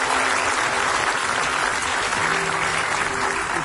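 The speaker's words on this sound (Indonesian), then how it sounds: "kasih tepuk tangan dulu buat mereka berdua." Studio audience applause on an Indonesian television talk show, a dense, steady wash of clapping filling the whole stretch with a faint tonal hum beneath it.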